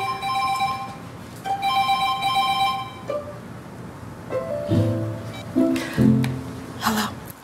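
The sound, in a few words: mobile phone ringing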